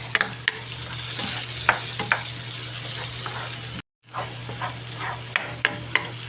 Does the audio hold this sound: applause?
no